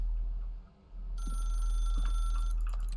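A telephone in The Stanley Parable: Ultra Deluxe rings with a bright, trilling electronic bell that starts after a short pause and repeats, clear and steady over a low background hum.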